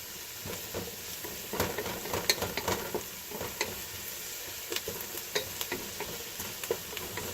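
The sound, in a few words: food sizzling as it fries in a pan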